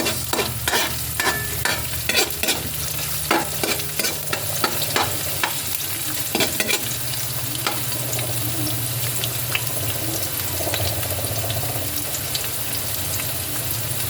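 Chopped onion frying and stirred in a pan for a ground-meat giniling: a steady sizzle runs throughout, broken by frequent scraping strokes of a spatula, close and fairly loud.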